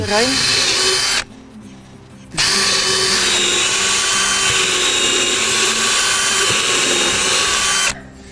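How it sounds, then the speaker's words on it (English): A power drill bores holes into wood while a roof is built from wood and reeds, whining loudly and steadily in two long runs separated by a short pause, with speech faintly underneath. "We drill various holes in the wood."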